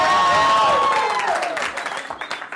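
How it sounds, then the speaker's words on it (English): A live comedy show audience bursting into applause and cheering, loud and close at first with a whooping voice rising above the crowd, then thinning into scattered claps. "By a round of applause and your level of excitement, tell those who haven't seen me before how much fun they're going to have tonight"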